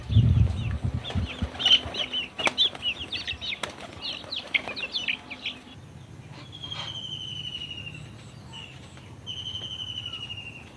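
Pigeons flap their wings in a burst of close, loud wingbeats as rice is scattered for them, then settle to quieter rustling with faint chirps and insect-like buzzing in the background.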